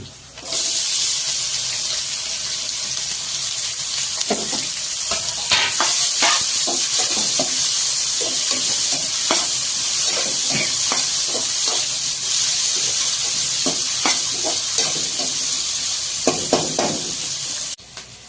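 Onion and green chilli stir-fry in a hot pan with curry leaves, a loud constant sizzle and hiss. Irregular scraping stirs and clinks break through it across the whole stretch.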